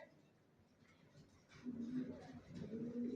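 Racing pigeon chicks cooing in a loft, soft low coos that swell in the second half over quiet rustling, close by, with a voice faintly present.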